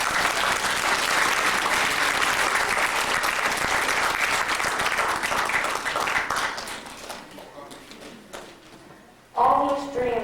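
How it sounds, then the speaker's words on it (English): A room full of people applauds themselves at a disability self-determination gathering, with loud sustained clapping that thins and fades before a voice begins to speak. "clap for yourself."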